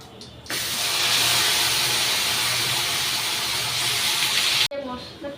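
Cumin and ground spice paste hitting hot oil, a loud sudden hissing sizzle that starts abruptly, holds steady and cuts off near the end, with brief sounds before and after.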